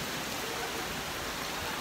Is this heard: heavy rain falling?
yes